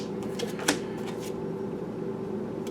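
Oracle cards being shuffled, a soft papery riffling with a sharper snap near the start, close and quiet against a faint background hum.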